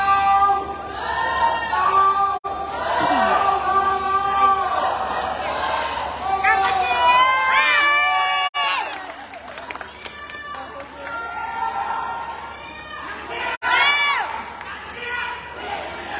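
A crowd of fans cheers and claps at a women's doubles petanque gold medal match at the 2023 SEA Games in Cambodia, Laos against hosts Cambodia, busy crowd noise running under an excited commentator's voice.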